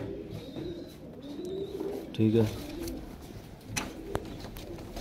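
Breeder pigeons coo softly in a loft in Faisalabad, low murmuring calls recurring through the clip beneath a man's nearby speech.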